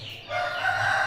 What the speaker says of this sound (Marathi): हा कोंबडा,